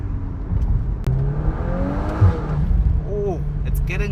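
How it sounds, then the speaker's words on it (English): A 2024 VW Golf 8 R's exhaust drones and swells while driving, a steady engine note rising in pitch with a sharp click partway through and a brief revving sweep near the end. "I think as the car warms up, you get more out of the exhaust"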